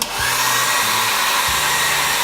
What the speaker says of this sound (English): you get your hair dryer or your heat gun